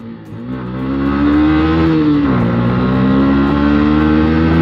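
A Yamaha YZF-R125 sport motorcycle engine revs loudly and steadily up close, its pitch climbing, dipping briefly, then holding a sustained high drone.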